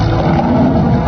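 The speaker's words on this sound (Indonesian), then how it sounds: "Itu seekor naga." A dragon in a film lets out a loud, dense roar at close range. The roar is steady and rumbling, with no voices over it.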